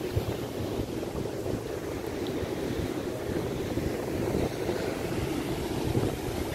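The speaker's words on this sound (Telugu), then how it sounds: "ఇదంతా కూడా సముద్ర తీర ప్రాంతం." Steady surf along a hidden village beach in West Godavari, with a broad continuous wash and wind noise. It sounds moderately close, with no voices.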